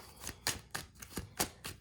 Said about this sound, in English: Let's shuffle some cards.